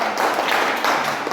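Children clap their hands together during a holiday Bible school gathering at an Indonesian Baptist church, a brief, dense patter of many hands, fairly loud and steady throughout.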